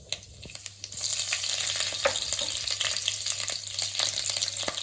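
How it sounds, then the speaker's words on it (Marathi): Mustard seeds hit hot oil in a pan while cooking poha, setting off a steady, close frying sizzle dotted with sharp crackles and pops. "आता आपण मोहरी टाकत आहोत तेल तापलेलं आहे"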